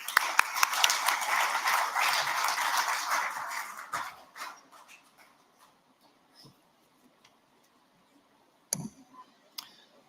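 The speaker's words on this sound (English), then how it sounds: "Please give a warm round of applause as I welcome the Minister to the stage." Audience applause welcoming a government minister on stage at a tech summit hall in Bengaluru, a dense burst of clapping for about four seconds that fades out, followed by near silence with a couple of brief knocks.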